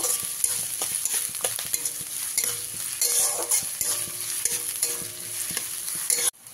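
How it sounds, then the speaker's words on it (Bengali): Onions and curry leaves sizzle in hot oil in a pan over a medium gas flame while a utensil stirs and scrapes at them in irregular strokes. "গ্যাসের ফ্লেমটাকে মিডিয়ামে রেখে সব কিছুকে একটু ভাজা ভাজা করে নিতে হবে"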